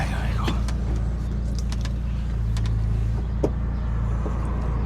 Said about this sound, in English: And another Mk1 Golf Convertible goes past.